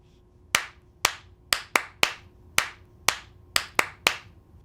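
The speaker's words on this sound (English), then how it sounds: "you can clap a pattern like this" Ten sharp hand claps beat out an uneven rhythm pattern, some spaced apart and others in quick pairs, close and crisp against a quiet room.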